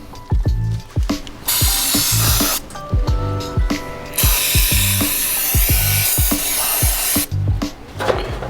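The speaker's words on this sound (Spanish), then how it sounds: "Si tenéis limpiador de frenos, guay, porque para limpiar estas piezas viene muy bien." Brake cleaner sprayed onto car parts in bursts of loud hissing, several long blasts broken by short pauses, with clicks and clatter of the parts being handled between sprays.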